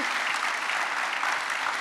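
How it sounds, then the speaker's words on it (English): Steady applause from a conference audience closing a Selenium testing presentation, dense and continuous clapping at moderate loudness with no speech over it. "big applause at the end of the presentation"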